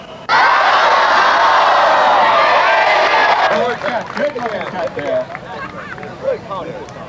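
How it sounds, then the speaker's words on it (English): A crowd at a Takoma coffee house show lets out a loud, sustained cheer for about three seconds, then the roar breaks into scattered shouts and chatter. "please join me in one more Takoma cheer, and as the ball is going up, everybody say, welcome home"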